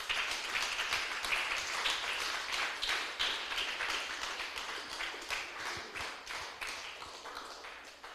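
A church congregation applauds together, a dense sustained patter of many hands clapping that holds steady and slowly tapers, with no talk over it.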